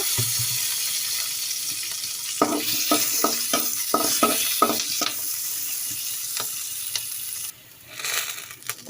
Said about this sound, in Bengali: পাঁচটা কাঁচামরিচ দুইটা মিডিয়াম সাইজের রসুন আর দুইটা বড় সাইজের পেঁয়াজ কুচি করে নিয়েছি সেগুলো আমি ভেজে নেব